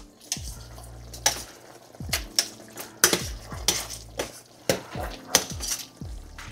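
Pork hamonado stirred with salt and pepper in a pan: a spoon taps and scrapes the pan in a steady, uneven rhythm of sharp clinks over a faint sizzle, close and fairly quiet.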